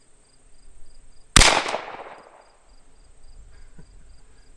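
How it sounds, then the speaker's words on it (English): A single loud, sharp shot from a Taurus pistol firing factory-new LAX ammunition rings out with a decaying echo, set against a steady high insect-like whine. "And we're just shooting some factory new LAX ammo."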